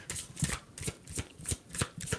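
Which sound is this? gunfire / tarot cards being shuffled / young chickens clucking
tarot cards being shuffled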